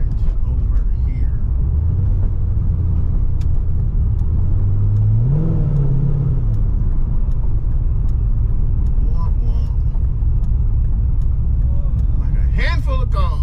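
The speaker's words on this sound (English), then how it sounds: "There's a Mustang behind us." Ford Mustang driving behind at a car meet, its engine rising in pitch as it accelerates and then settling, heard from inside a moving car under steady road noise, with brief voices near the end.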